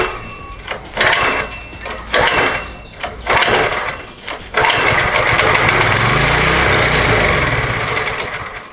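A small Chinese-made petrol engine, choke set and fuel on, coughs through several short failed pulls before catching at full throttle and running loud and steady with a buzzing, high-revving drone.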